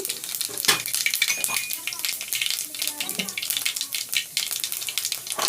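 Mustard seeds and cumin sizzle in hot oil in a pan, giving a close, steady hiss with dense crackles and pops throughout.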